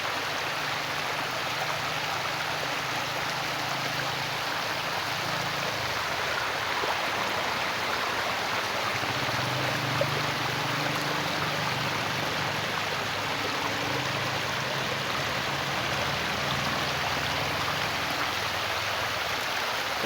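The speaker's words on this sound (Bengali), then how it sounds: "আপনাদের জল আসাটা দেখাইলাম, দেখেন কীভাবে জল আসতেছে।" Floodwater from the Padma river flows steadily over village land, a constant broad rushing wash with no pauses, loud and close, with no voices.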